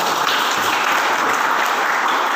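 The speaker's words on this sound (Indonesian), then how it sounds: "kita tepuk tangan untuk beliau Bapak dan Ibu." Audience applause at a handover ceremony for a college chair in Singaraja, a loud, dense and even stretch of clapping from a large crowd with no voices over it.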